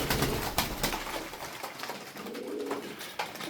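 Tumbler pigeons cooing up close, several soft throaty coos repeating over a low background murmur.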